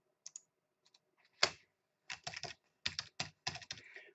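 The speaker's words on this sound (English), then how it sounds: "So let's type that in there." Typing on a computer keyboard: close, crisp key clicks in scattered taps and quick bursts against near silence.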